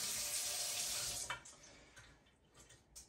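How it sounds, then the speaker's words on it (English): Water rushes from a Wewe kitchen faucet sprayer into a sink, a loud bright hiss for just over a second before the flow stops and only soft drips and splashes remain. "The bottom button switches over to the sprayer and back."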